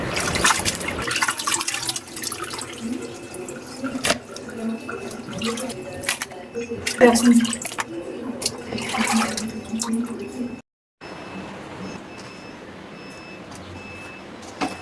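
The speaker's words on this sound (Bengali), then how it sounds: "কেটে নেওয়ার পরে অনেক সুন্দর করে ছোট বউ মাংসগুলোকে ধুয়ে নিচ্ছে" Raw meat being rinsed in water for biryani, with steady splashing and trickling liquid, brief drips and handling noises close by, a short silent gap near the end, and a faint steady tone in the background.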